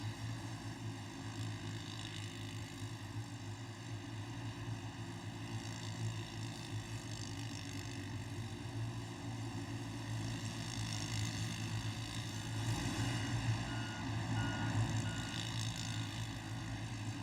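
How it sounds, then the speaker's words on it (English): Short course racing karts at the 2019 Crandon Brush Run drone past in a steady, moderately distant engine roar that swells slightly toward the end, with no voices over it. "This is such a cool section for these karts."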